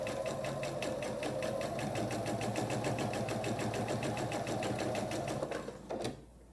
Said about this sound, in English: I'll take it over to the machine, I'll sew a scant 1/4 inch seam along each of these